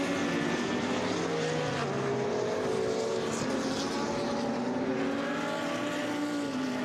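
A Porsche and a KTM race car battle on the Most circuit in an endurance race, their engines droning and shifting pitch together, loud and steady throughout with no talk over them.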